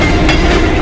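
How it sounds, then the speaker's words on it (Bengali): A midnight down train passes close by in strong, gusty wind, a loud, continuous rumbling roar with the rattle of railway cars, unbroken and without voices. "তারপর মাটি কাঁপিয়ে ট্রেনটা আমার পাশ দিয়ে এগিয়ে যেতে থাকলো।"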